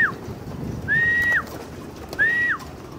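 Young pigeons in a loft call nearby with two drawn-out, whistling coos over a low, rumbling outdoor background.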